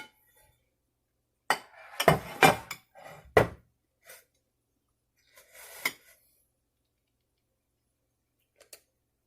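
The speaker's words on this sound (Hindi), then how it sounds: "हमने एक डिश रखी है, इसमें हम डालेंगे सीरियल" A dish is set down on a kitchen counter while a fruit salad is being prepared, giving a few sharp clinks and taps clustered close together, then a couple of lighter knocks after a pause, in an otherwise quiet room.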